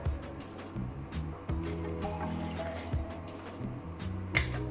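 Water poured into a cooking pot holding washed tur dal with turmeric, salt and olive oil, a continuous splashing trickle with small clinks and a louder knock near the end.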